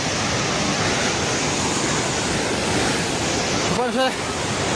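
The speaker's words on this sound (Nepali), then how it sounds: "पानी नजिक आइसकेको छ" Floodwaters of the Trishuli river in Nepal rush in a loud, dense, unbroken roar close by, with a brief shout rising over it near the end.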